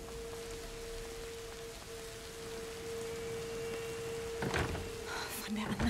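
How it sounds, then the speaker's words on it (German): Rain begins falling in the video game A Plague Tale: Innocence, a steady soft hiss of drops with a faint tonal hum beneath, broken near the end by a few sharp thuds and knocks. "jetzt fängt zum Regnen an"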